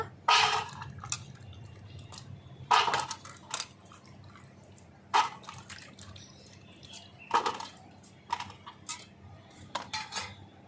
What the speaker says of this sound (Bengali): ভালো করে এবার জলে ধুয়ে উঠিয়ে নেব